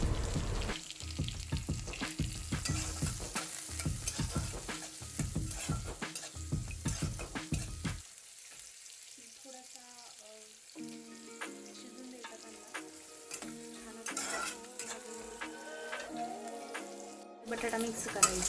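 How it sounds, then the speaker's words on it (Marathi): Potatoes frying with browned onions in a pan as they are stirred in, a steady sizzle with scraping and clinking of a utensil against the pan, followed by quieter bubbling, with a voice talking at times. "बटाटा मिक्स करायचा"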